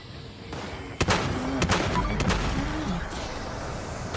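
Missile launcher fire in the Fallout video game, several sharp, loud nearby blasts in quick succession over a continuous rumbling background, with whooshing tails after the shots.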